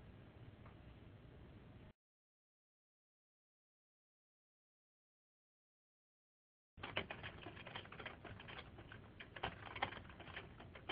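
Rapid clicking of computer keys, faint and close, runs for a couple of seconds, stops into silence, then resumes as busier, denser typing.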